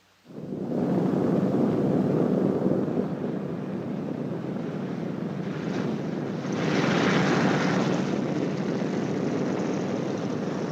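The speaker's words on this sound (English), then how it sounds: "When you touch the ground, the plane should be slightly tail low and going between 95 and 100 miles per hour" A WWII-era B-29 Superfortress, a four-engine propeller bomber, on landing approach with flaps lowered, gives a loud, steady propeller and engine roar that holds for about ten seconds with a slight swell near the end.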